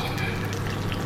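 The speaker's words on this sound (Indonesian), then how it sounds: "Kemudian minyaknya kita masukkan ke dalam bowl ya, atau mangkok." Hot chili oil poured from a wok into a bowl makes a steady close liquid gush and trickle, continuous for about a second with no talk.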